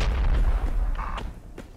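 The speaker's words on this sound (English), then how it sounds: "I'm gonna go ahead and put a nade on the second crate" A grenade bursts against a wooden crate in the military shooter Project Reality, a heavy low rumbling boom followed by fading debris and a second dull thud, fairly loud and close with no talking.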